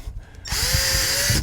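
A power drill bores into the interior of a 1965 Ford F-100 pickup, a loud, steady motor whine with grinding starting abruptly after a brief quiet moment and running without a break to the end.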